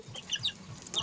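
Several short clucks from Brassback roosters nearby, quick scattered calls in a brief burst with faint background noise.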